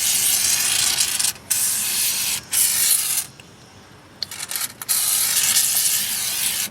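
Aerosol rust-prevention spray hissing onto a Jeep Liberty rear wheel hub near the brake shoes, several loud close bursts separated by short pauses, with no talking.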